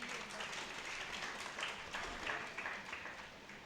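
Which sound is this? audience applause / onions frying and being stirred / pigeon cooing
audience applause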